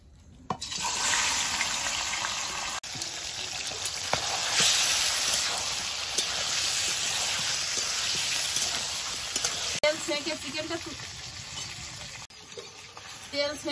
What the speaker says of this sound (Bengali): চিকেনটা ভেজে নেব।